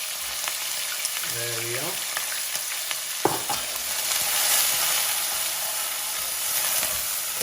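Chopped onions fry loudly in oil in a pan, a steady broadband sizzle throughout with a brief clatter of stirring near the middle while a voice speaks briefly.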